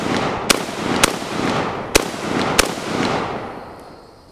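An AK-47 rifle fires 7.62x39 full metal jacket rounds in a backyard: four sharp, loud, evenly spaced shots about half a second to a second apart, each trailing a long echoing decay, with no voices.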